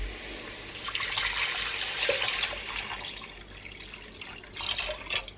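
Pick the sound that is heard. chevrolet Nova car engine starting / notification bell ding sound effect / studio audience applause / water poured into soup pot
water poured into soup pot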